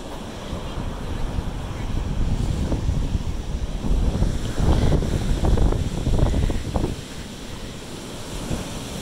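Ocean surf rolls in at a dog-friendly beach, a rushing wash of breaking waves mixed with gusty wind buffeting the microphone, swelling loudest midway through before easing back.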